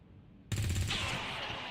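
A single loud, close gunshot from a soldier in XCOM 2, bursting suddenly after near silence and ringing out with a sustained rumbling tail.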